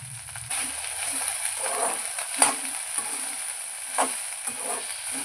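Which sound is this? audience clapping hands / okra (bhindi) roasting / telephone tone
okra (bhindi) roasting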